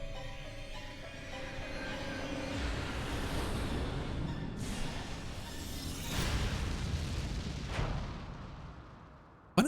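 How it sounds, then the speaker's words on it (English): A bomb blast in the video game 428: Shibuya Scramble: a sustained, rumbling roar of explosions with several sharper bursts over almost ten seconds, loud and booming throughout. "Here comes the bomb."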